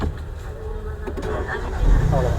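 A car's engine turns over and catches during a driving lesson, then settles into a steady low idle that grows louder near the end, with background voices underneath.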